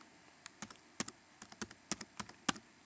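Keys on a computer keyboard are struck in irregular, crisp clicks, about a dozen taps close up, in bursts with brief pauses, with no talking.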